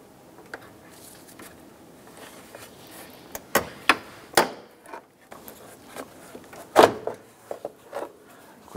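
Plastic retainer buttons pried out with a pry tool on a 2005-2009 Subaru Outback, a few sharp close pops and clicks spread over several seconds with light handling rattles between them.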